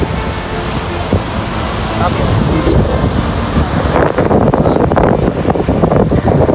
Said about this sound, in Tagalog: Kasang alon no? Grabe. Kasang alon.